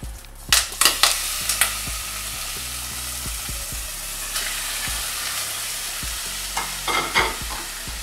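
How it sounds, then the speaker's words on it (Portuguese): Tilapia fries in a pan with parsley, chives and cherry tomatoes, a steady sizzle under repeated clattering stirs and scrapes, loudest in short bursts near the start and end. "Aqui já vou colocar a tilápia na panela."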